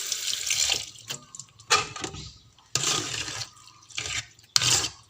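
Sago pearls are washed under running water in short, splashing bursts of flow separated by quieter gaps, close and moderately loud.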